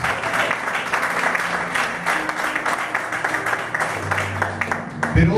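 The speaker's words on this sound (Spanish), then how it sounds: "Apláudale fuerte a Dios." Church congregation clapping loudly together in worship, a full, sustained round of many hands with faint voices mixed in, ending with a low thump.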